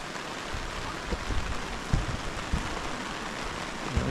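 Heavy rain at a fire-damaged campsite in Jasper National Park, a steady even hiss of falling water with a few heavier drips and taps on a nearby surface, moderately quiet, with no talking.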